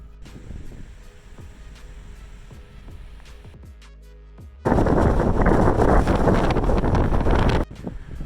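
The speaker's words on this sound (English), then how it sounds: "And the wind is intense, probably 25 mile an hour, gusting to 40." Wind buffets the microphone on a mountain ridge, about 25 mph gusting to 40, then a powerful gust erupts into a loud, roaring blast for several seconds before easing off abruptly.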